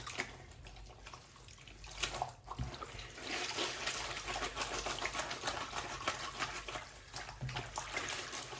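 A shirt being hand washed in a sink while travelling, with wet sloshing, squelching and dripping water from scrubbing the fabric, steady and close with a few sharper splashes.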